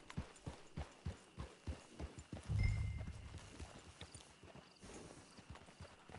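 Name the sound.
horse hooves clip-clop in the Red Dead Redemption II video game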